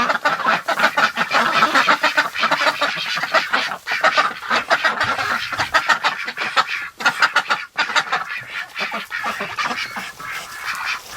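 Muscovy ducks gathered in a barn, giving a dense, continuous chorus of close, overlapping honks and quacks with a steady rhythm throughout.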